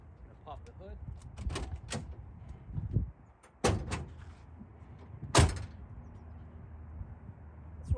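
Hood release and latch on a 1979 Buick Electra Park Avenue sedan: several sharp metallic clunks and thunks spaced a second or two apart, fairly close, with quieter handling noises between and someone talking.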